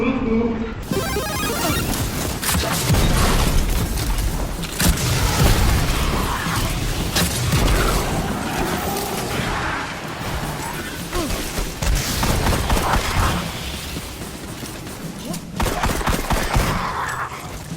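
Loud, dense crashing blasts and rapid gunfire fill a Destiny 2 fight as a Nova Bomb detonates on a cluster of enemies, with the roar continuous and cluttered throughout.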